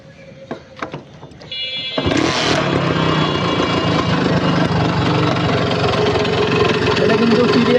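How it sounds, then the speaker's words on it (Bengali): A 1991 Honda H100S motorcycle revs freely through its silencer. A few sharp clicks and knocks come first, then the engine catches and holds a loud, steady mid-pitched drone that lasts to the end. "এটা কিন্তু ফ্রি অ্যাক্সিলারেটরের ইঞ্জিনের সাউন্ড, ফ্রি অ্যাক্সিলারেটরের সাইলেন্সারে।"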